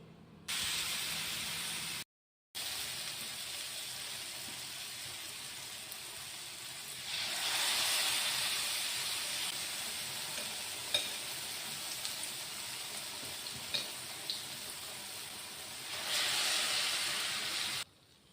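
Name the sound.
banana fritters (pazham pori) frying in hot oil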